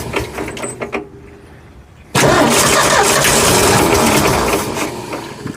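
An old, long-neglected Ford F100 truck engine, being revived with fuel and idle work, fires after a quiet moment of cranking, then roars into a loud, rough, steady run close by.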